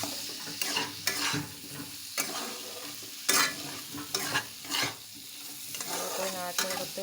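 Fried eggplant and potatoes are stirred into sizzling masala in a pan, with steady close frying hiss and repeated scraping spoon strokes at irregular intervals, no talking.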